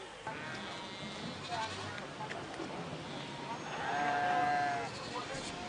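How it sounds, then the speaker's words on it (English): Sheep brought in from Burkina Faso, Mali and Niger bleat in a livestock market, two or three short wavering calls rising over a busy background of chatter and voices nearby. "the sheep you see here, they brought them from Burkina Faso, Mali, and even Niger"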